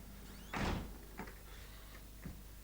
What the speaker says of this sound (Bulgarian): И за това ще затворим тази врата.